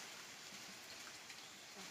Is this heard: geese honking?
no